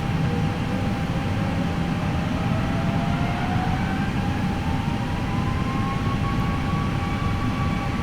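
Airbus A320 engines spool up for the takeoff roll in the FSLabs flight simulator, a loud steady roar with rising whining tones climbing in pitch throughout.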